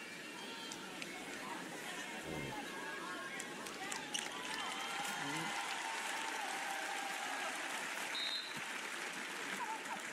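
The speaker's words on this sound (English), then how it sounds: "Big round of applause for Rachel Benham in this building." Arena crowd at a Chicago Sky vs. Minnesota Lynx WNBA game applauding an injured player, a steady broad wash of clapping and crowd noise sustained throughout, with voices talking over it.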